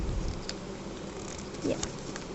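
Mosquitoes buzz close by in a room, a thin whining drone that lingers at low level throughout with faint background noise and no talking.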